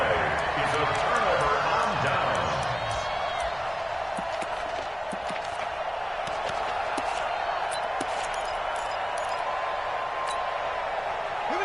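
A large stadium crowd in a football video game roars steadily through the whole stretch, a loud, broad wash of cheering that swells at the start and then holds, with a commentator's voice running over it.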